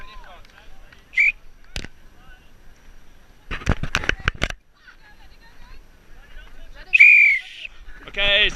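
A referee's whistle at a mixed tag rugby match gives several short, sharp blasts spread across the stretch. Scattered clatter and outdoor background noise sit between them.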